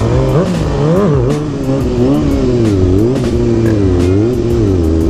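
A 2020 Kawasaki 636 stunt-build motorcycle accelerating hard, its loud engine note rising and falling through repeated revving sweeps close to the rider, with no talk.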